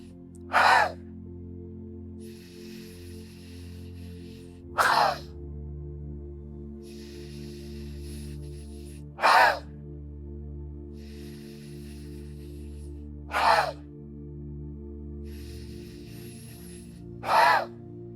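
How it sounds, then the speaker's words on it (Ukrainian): A person doing a breathing exercise, with deep inhales through the nose and short exhales through the mouth. Sharp, brief breath bursts repeat about every four seconds over soft, steady background music, with no talking. "Глибокий вдих носом і короткий видих ротом."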